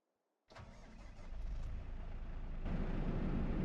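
An engine turns over and starts, then settles into a steady, rumbling run that grows slightly louder, close by with no voices.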